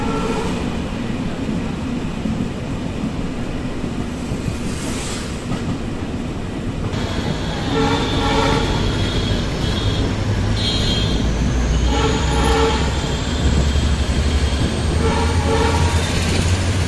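Inside a moving train on the line through Assam toward Ledo, a continuous loud rumble and rattle of the carriage runs throughout, with faint higher squeals and clatter rising toward the end.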